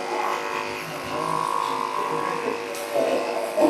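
Electric clippers buzz steadily through thick, tightly matted dog fur, a close continuous drone that shifts slightly in pitch as the blade works around the tangles.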